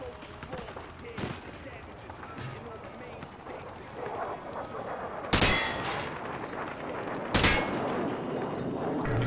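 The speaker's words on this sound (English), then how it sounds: "He sprayed bullets all over the damn place." Two loud broadband bursts of gunfire sprayed from the hip in Call of Duty: Modern Warfare 2, standing out over a steady bed of distant battle noise and earlier faint shots.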